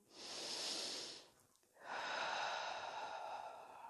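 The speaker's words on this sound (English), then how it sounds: "Keep breathing there." Slow, deep breaths during a yoga side stretch: a long, airy inhale, a brief pause, then a long, hissing exhale, all close and alone.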